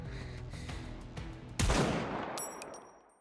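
A sharp, loud gunshot burst from the video game Nikke, a headshot on the boss Behemoth, hits at once and rings out into a long decaying tail, with faint high tones at the end.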